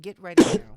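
A single short, loud sneeze bursts out right after a brief spoken phrase, close and indoors.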